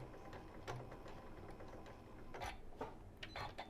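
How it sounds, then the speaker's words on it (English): A sewing machine locking a stitch while making a Japanese rice bag, giving a faint mechanical whir with a few small ticks and clicks across a few seconds, quiet and close. "lower the presser foot, press the lock button. We're going to lock the stitch in place again"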